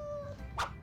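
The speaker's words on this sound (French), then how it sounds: "C'est un petit chaton." A kitten gives a single short, faint meow near the end, preceded by a soft high tone and low background hum.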